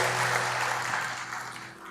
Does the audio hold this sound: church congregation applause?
yes